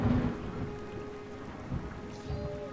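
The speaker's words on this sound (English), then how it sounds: "Did you guys hear that thunder?" A thunderstorm rumbles with low thunder rolling in and out over a steady patter of rain. The storm sounds fairly close, with a couple of heavier swells. No one speaks over it.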